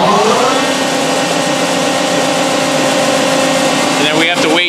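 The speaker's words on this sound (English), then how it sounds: "Now we're going to turn the hydraulic pumps on." Hydraulic pumps on a hose impulse test stand run loudly with a dense, steady mechanical drone. Faint tonal sweeps appear right at the end.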